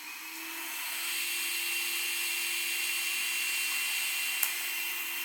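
A steady, loud mechanical whirring with a high motor whine from a Samsung robot vacuum's station emptying the dust bin holds for several seconds, ending in a brief sharp click.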